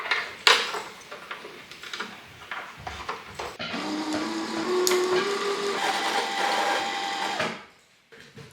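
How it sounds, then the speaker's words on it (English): A sewing machine stitching a 1950s-style top starts with a few clicks and short bursts, then runs steadily for several seconds, close and clear, before winding down to silence. "I think it's time to start sewing her together."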